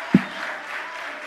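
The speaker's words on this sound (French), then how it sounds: "Et maintenant, un gros applaudissement pour belle madame Sarah" An audience at a talent contest final applauds for Madame Sarah, a brief stretch of moderate clapping opening with a sharp low thump.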